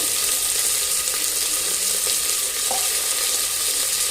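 Tomato, potato and carrot sautéing with onion in a pan, a dense, even, loud sizzle throughout with faint stirring, no voices.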